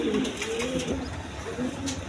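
Maxi racer homing pigeons coo in soft, repeated rolling calls, fairly close, over a faint background murmur.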